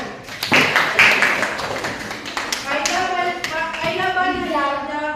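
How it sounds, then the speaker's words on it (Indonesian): A primary school class claps hands together in a classroom, a burst of sharp, uneven claps that fades quickly, followed by a teacher speaking. "Berikan tepuk tangan."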